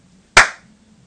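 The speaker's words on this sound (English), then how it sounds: "Now I'm going to clap and it'll come on" A single sharp hand clap, used to trigger a homemade clap-activated circuit, rings out once loudly and close against a faint low hum, then decays quickly into near silence.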